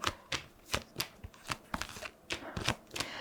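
Playing cards shuffled for a card reading, about eight crisp riffling bursts in an even rhythm, close and clear with no talking.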